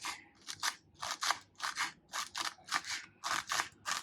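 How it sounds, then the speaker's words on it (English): Four green chillies are chopped into small pieces on a board, a close, steady series of about a dozen crisp, crunchy knife strokes in an even rhythm. "So I am taking about 4 green chillis and we'll chop them also into small pieces"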